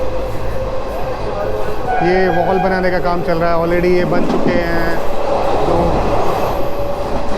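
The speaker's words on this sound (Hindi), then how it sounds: "अब इस ट्रेन का स्पीड अप हुआ है।" A local train running between Delhi and Gurugram rumbles along the rails as it picks up speed, with a loud, steady roar and squealing metallic tones in the middle, while someone talks over the noise.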